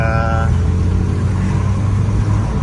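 A Seat Altea FSi, blowing blue smoke, drives along with a steady low engine rumble and road noise throughout, while a brief tonal sound is heard near the start.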